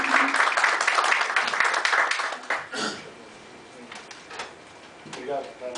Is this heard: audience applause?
yes